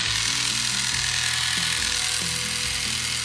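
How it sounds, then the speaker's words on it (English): A small motor on a K'nex motorized drill toy whirs continuously and loudly up close, a buzzing electric drone with slight wavering pitch and rattling plastic parts throughout. "It's a little motor."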